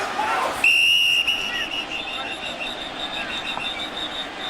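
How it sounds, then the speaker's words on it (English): A referee's whistle cuts in with a sharp, shrill blast lasting about half a second at an NFL game between the Washington Redskins and Oakland Raiders, over the steady murmur of a stadium crowd. "And a whistle and a penalty."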